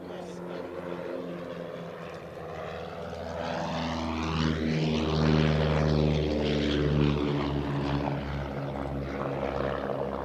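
A de Havilland Chipmunk propeller aircraft flies at an airshow, its engine a steady, loud droning hum with a pitch that sweeps as it passes, holding strong throughout with no break.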